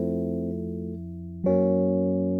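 Ableton's Electric electric piano on its default patch rings out in sustained mellow tones, one held chord that changes into another partway through, clear and steady with no voices.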